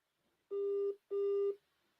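A telephone rings unanswered: two identical electronic ring tones, each about half a second long, separated by a short pause, clear and fairly close with no voices.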